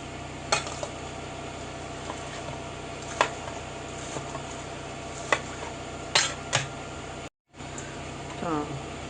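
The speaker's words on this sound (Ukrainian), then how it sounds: "Спочатку ми наріжемо цибульку." A knife chops onion on a cutting board in a home kitchen while a salad is prepared: a handful of sharp, irregular taps over a steady low background hum.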